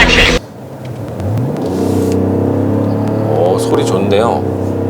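BMW X7 engine pulling hard while accelerating in a bus lane, a deep rising rumble building and holding as revs climb, close and loud, with people talking over it.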